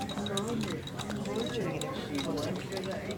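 Treadle sewing machine stitching satin-stitch embroidery in a hoop at an outdoor historical encampment, giving a steady stream of light mechanical ticking and clattering under a constant background of voices and talk.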